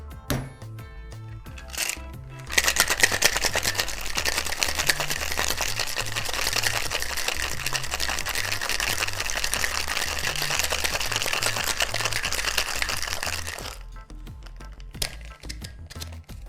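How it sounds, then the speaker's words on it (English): Passion fruit margarita with ice shaken hard in a cocktail shaker, a dense continuous rattle of ice lasting about eleven seconds, loud and close, with no talking over it. "And like always, we're going to shake the cocktail for 12 seconds."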